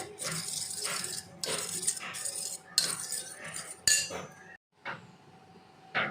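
A spoon beats homemade curd (yogurt) in a bowl for a paneer masala, making rapid, rhythmic metallic clinks and scrapes in close-up bursts, with a brief silent pause before the beating resumes.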